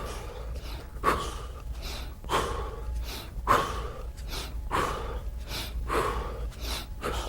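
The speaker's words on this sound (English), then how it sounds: "take a deep breath in and let it out" During an exercise drill, a person breathes deeply and audibly in and out, repeating strong, airy breaths in a steady rhythm up close, with no talking.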